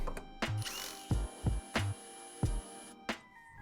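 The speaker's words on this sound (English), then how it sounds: "we're going to use a 1/4 inch socket and we can remove that" A 1/4 inch socket ratchet clicking close up as it loosens the helical gear on a cutter head, short bursts of pawl ratcheting separated by brief pauses and small metallic taps.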